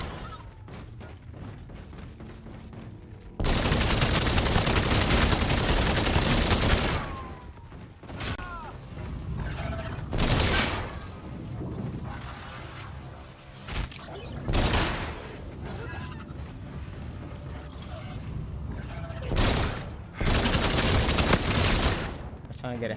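Heavy gunfire in Infinite Warfare Zombies as shots are fired at zombies, with dense bursts and volleys that rise and fall in loud waves across the clip, interrupted by short pauses and thumping impacts.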